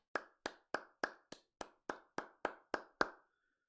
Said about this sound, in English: I'm going to give you a big clap.